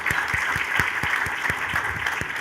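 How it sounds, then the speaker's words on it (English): Audience applause for a guest introduced at an onstage comedy panel discussion, a steady wash of clapping from many hands filling the room without a break. "So round of applause for Bassem."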